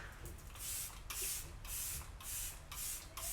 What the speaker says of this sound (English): I'm gonna go in with my Let It Set Refreshing Spray and finish with that